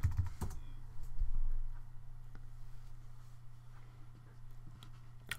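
Quiet bursts of key presses on a computer keyboard, close and soft, over a low steady hum, with no talk.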